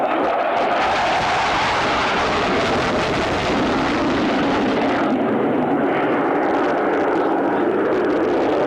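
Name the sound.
US Air Force jet aircraft with loud engines at airshow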